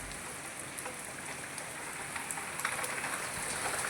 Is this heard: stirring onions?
no